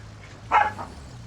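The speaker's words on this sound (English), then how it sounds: "Sorry, my dogs are restless tonight." A dog gives a single short, muffled bark indoors at night, faint against a low steady background hum.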